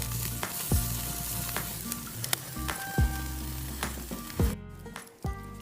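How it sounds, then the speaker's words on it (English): Garlic butter melts and sizzles on an organic ribeye steak cooking over an outdoor bonfire, a continuous close hiss and crackle broken by a few sharp pops and clinks. "I like a bit of garlic butter on the meat."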